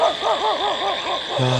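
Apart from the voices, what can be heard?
dogs barking at night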